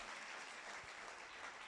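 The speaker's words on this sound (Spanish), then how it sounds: "Dale un aplauso al Señor." A church congregation claps for the Lord during a Spanish-language service, a faint, dense, continuous wash of applause with no voices standing out.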